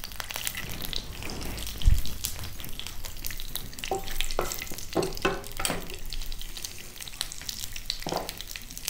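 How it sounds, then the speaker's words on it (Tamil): Mustard seeds, urad dal, cumin and chana dal frying in hot oil for a ragi masala dosa filling, a steady close crackling sizzle with occasional stirring scrapes and pops throughout. "இப்போ இந்த எண்ணெய் சூடானதும் கடுகு, இதோட கொஞ்சம் உளுத்தம்பருப்பு, கொஞ்சமாக சீரகம், கொஞ்சம் கடலைப்பருப்பு,"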